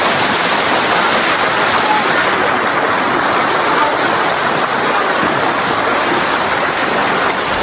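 Strong, fast-flowing water rushes loudly and without break, a dense broadband roar like a torrent or small waterfall close at hand.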